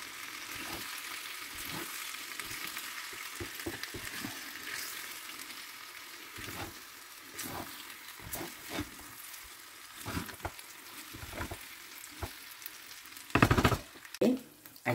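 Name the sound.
potatoes frying with vinegar in pan, being stirred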